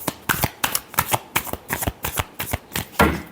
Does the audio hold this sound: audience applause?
no